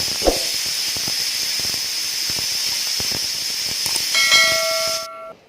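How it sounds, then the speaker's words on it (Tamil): A steady, loud steam hiss from a pressure cooker cooking green gram runs throughout, a whistle tone rising near the end before it cuts off abruptly. "இதுக்கு நான் ஒரு 3 விசில் போட்டு எடுத்துருக்கேன்"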